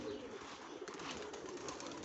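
Aviary pigeons coo softly amid a dense background of fluttering and rustling in a loft, the low calls faint and continuous across a couple of seconds.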